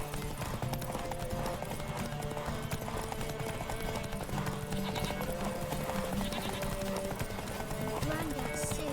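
Roach the horse trots in The Witcher 3, a steady clip-clop of hooves beneath game music and ambient sound, with speech running over it.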